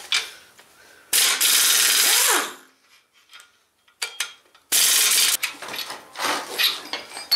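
Bolts being worked loose on a Chevy small block 305 V8 during teardown, with two long loud rasping bursts of a tool and scattered metallic clicks and ticks between them, close up with no talk.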